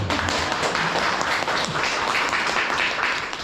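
An audience bursts into steady, loud applause for the introduction of a Korean fishing YouTuber at a talk-show-style interview, dense clapping filling the whole moment without a break.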